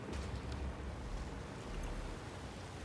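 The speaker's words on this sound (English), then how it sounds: "we're under a lovely waterfall" Waterfall in the Satisfactory video game, a steady, faint broadband rush of falling water that stays constant throughout with no voices.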